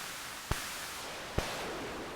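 A steady hiss of pink noise from a percussion synthesizer fills the clip, broken by two sharp clicks.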